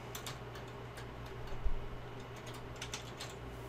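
Computer keyboard typing while correcting a typo during a programming exercise, a run of light, quick key clicks over a steady low hum, with no voices.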